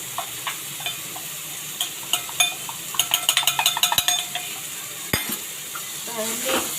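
Red chili powder, turmeric and asafoetida frying in a pan for phodnicha bhaat, a steady sizzle with a fast burst of metal spoon clinks and scrapes against the pan in the middle and a couple of sharper knocks.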